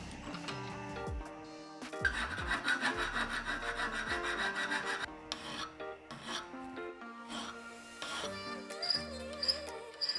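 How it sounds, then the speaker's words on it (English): A hand file rasps back and forth across a metal Aermacchi motorcycle foot peg, repeated close scraping strokes in an uneven rhythm, some strokes long and others short. "so a little bit of hand filing."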